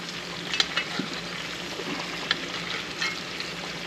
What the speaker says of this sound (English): Baste, baste, baste.